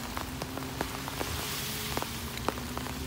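Rain falls steadily under a tree in an open rural spot, a dense wash of hiss with scattered sharper drops tapping nearby surfaces throughout.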